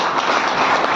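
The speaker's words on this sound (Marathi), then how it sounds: "काकांसाठी टाळ्या वाजवा" An audience at a farmers' agriculture meeting applauds, a brief, dense and loud burst of many hands clapping together close by.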